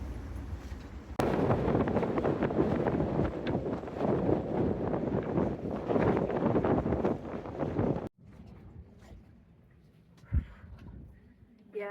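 Strong wind buffets the microphone aboard a sailboat lying at anchor off Sardinia in summer, a loud roaring gust for several seconds before it suddenly drops to quiet with light knocks.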